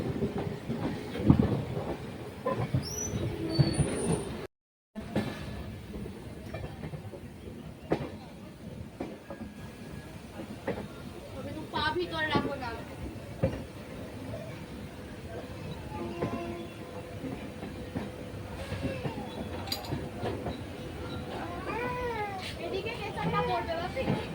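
A train rattles over track switches as it pulls into Asansol station, its rhythmic clickety-clack and rumble running throughout under people talking nearby.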